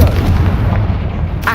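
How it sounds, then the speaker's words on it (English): A Confringo fire spell blast cast in the video game Hogwarts Legacy: a loud, sustained booming rumble that fills the whole moment, heavy and close, with no voices over it. "Confringo!"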